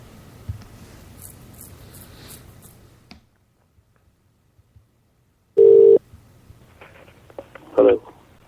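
Telephone line tones sound as a caller reconnects to a phone-in radio show: two short steady beeps some seconds apart, after faint background noise and a silent gap.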